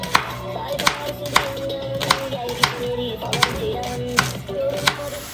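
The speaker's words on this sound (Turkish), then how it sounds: "Şimdi böyle hemen bunları yerleştirdiğim gibi pırasayı doğrayalım" A knife chops through leeks on a board in quick, irregular strokes, close and crisp, with a voice speaking faintly underneath.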